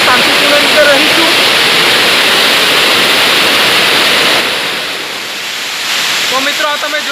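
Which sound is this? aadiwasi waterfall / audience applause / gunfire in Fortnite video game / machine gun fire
aadiwasi waterfall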